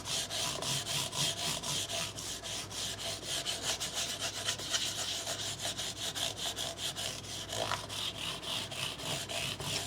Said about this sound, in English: you take a StewMac microfiber pad and you just hit the sides like this